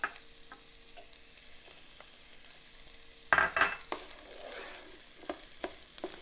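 Green and red peppers fry in an oily pan for prawns in coconut sauce, with a low steady sizzle broken midway by a louder burst of spattering and a few light clinks of utensils against the pan.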